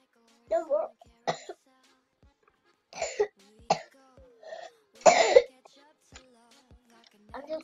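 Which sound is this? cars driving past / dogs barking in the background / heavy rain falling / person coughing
person coughing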